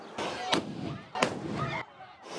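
Flashbang grenades go off as armed agents in riot gear raid a restaurant, producing two sharp, loud bangs about a second apart over a continuous noisy din.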